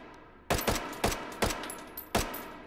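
Several separate sharp gunshots from a Russian gun in the VR game Hot Dogs, Horseshoes & Hand Grenades fire in semi-automatic rhythm, loud and close, each cracking with a short ringing tail.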